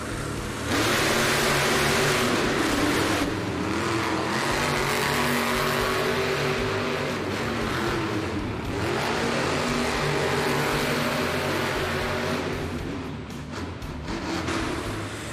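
Monster Jam trucks Dragon and Gravedigger race in an indoor arena, deep engines roaring and revving loudly and continuously, with rumbling bursts of acceleration and a wash of crowd noise for the whole stretch.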